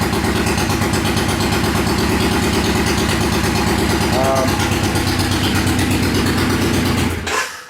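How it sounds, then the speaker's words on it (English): A Yamaha 535 motorcycle idles close by with a steady, even engine rumble, then the engine cuts off abruptly near the end. "we'll start it up here. Not a bad running little bike."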